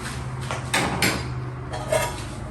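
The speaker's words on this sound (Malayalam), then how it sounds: "എന്നിട്ട് നന്നായിട്ട് ഇളക്കുക." A spoon stirring yeast into grape wine in a jar, giving a few sharp clinks and scrapes against the container over a quiet background with a low hum.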